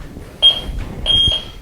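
An ADT security alarm panel beeps while being disarmed: two short, clear electronic tones about half a second apart, close to the device, over faint room noise with no talking.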